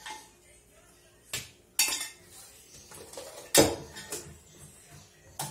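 Hominy for canjica is tipped into a metal cooking pot, giving a few sharp clanks and scraping knocks of metal against metal, spaced irregularly and close up, with no talk.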